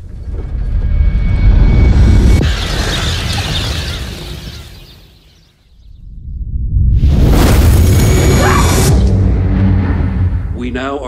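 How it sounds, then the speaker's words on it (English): A disaster-movie explosion as a fragment strikes Central Florida: a deep rumbling blast that fades to a lull, then a second loud roaring burst with crackling debris, heavily mixed under dramatic voices. "Wait, what is the explosion?"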